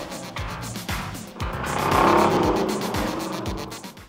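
Indy race cars roar past at the Molson Indy, engines loud and close, pitch sweeping as each one passes, several overlapping passes building to a sustained peak in the middle before easing off.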